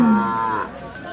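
A water buffalo lows at the Kharian livestock market, a single short, deep, moaning call lasting about a second, close and clear.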